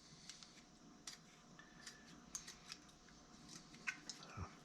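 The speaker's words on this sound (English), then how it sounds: "I trim it a little bit." Small scissors snip away skin from the spur of a wild turkey trophy, several faint, close, crisp snips and clicks spaced irregularly with no voices.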